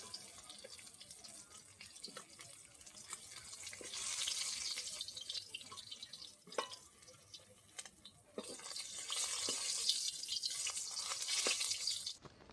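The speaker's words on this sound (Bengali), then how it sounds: "একটুখানি জল গেলে নিচ্ছি, তাই জলের মধ্যে একটু সেদ্ধ বসিয়েছি" Water streams steadily into a cooking pot for boiling fresh yam, a soft continuous pour with light splashing that swells in two longer runs.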